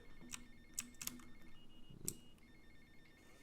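A telephone rings in short repeated electronic bursts in the video game GTA Vice City, fairly faint, with some tapping and a low hum underneath; no one speaks.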